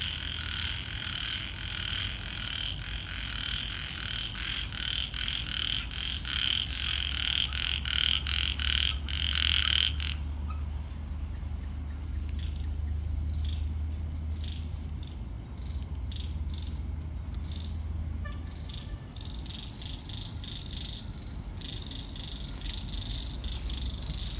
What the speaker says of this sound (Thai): ผมเจอกบ เพิ่มอีกตัวแล้วครับ